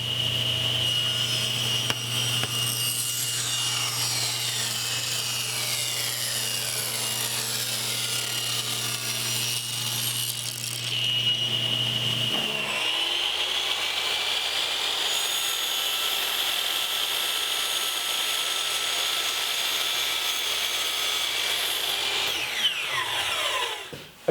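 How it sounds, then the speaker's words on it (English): A table saw rips along the edge of a wood molding strip with a fence set at 3/8 inch. The motor hums steadily while the blade whines through the cut, and the pitch shifts midway as the wood feeds through. "Now I'll turn the molding on its edge and run it back through the saw."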